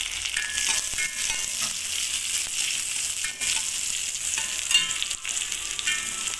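Salted ingredients with green chilli sizzle and fry steadily in a pan, with scattered clinks and scrapes of a spoon stirring them; the cooking noise is continuous, close and fairly loud, with no talking.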